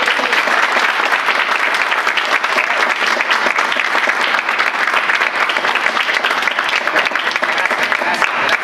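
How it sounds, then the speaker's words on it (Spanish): Sustained, loud audience applause at a company presentation greeting an honored colleague, dense steady clapping filling the room throughout with no pauses. "quiero que le den un fuerte aplauso, pero un fuerte aplauso, ya, al gran orgullo de la compañía, al señor Daniel Cuellar"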